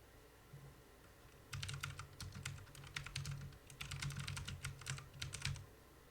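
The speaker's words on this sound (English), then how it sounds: "Tell me if that sound is really annoying, because if it is, I can switch back to the other keyboard" A computer keyboard, swapped in for a different one during a live music prep stream, clicks out a quick run of keystrokes after a quiet start, the typing steady and close for several seconds before stopping.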